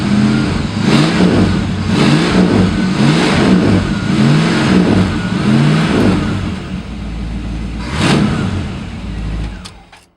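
A 1970 Ford Thunderbird's 429 V8 with a high-performance radiator, running from a cold start, revs repeatedly in loud, rhythmic surges over a deep idle, with a final blip before it settles.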